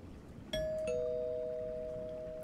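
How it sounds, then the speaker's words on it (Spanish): A house doorbell rings in a two-tone ding-dong, its clear chimes sustaining and slowly fading over a low background hum, with no voices. "fui nuevamente a tocar el timbre de aquella casa"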